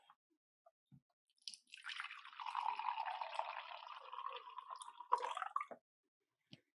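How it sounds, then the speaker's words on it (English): Filtered water trickling and dripping into the lower chamber of a Berkey gravity water filter, a faint close-up liquid stream for a few seconds with a couple of isolated drips and clicks before and after. "I can hear it. I can hear it. Little drips."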